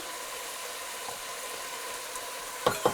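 Onion frying in a pan for white chicken chili, a faint steady sizzle with a low hum under it and two quick clinks of a utensil near the end, with no one talking.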